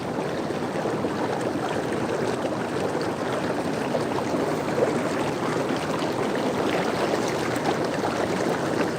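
Hot tub water bubbles in a steady, close, unbroken wash of gurgling and fizzing jets, with no break or change throughout.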